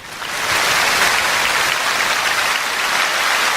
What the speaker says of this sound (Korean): 뜨거운 박수로 맞이해 주십시오